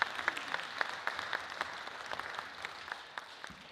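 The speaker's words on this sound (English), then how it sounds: "Let's give them a giant round of applause." An audience gives a round of applause at a presentation, with many crisp individual claps standing out over a soft, even wash of clapping, moderately distant and fairly quiet.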